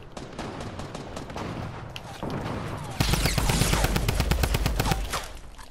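Drum gun rapid fire in Fortnite, a fast unbroken stream of loud gunshots that starts suddenly midway and keeps hammering, preceded by quieter game noise and scattered shots.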